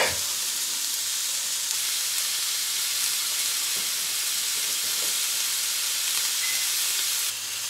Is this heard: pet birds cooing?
no